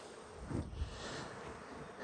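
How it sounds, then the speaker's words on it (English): Bees buzzing in a weak mating nuc colony, a steady faint hum close by, with a soft knock at the end and no talk. "They are bees"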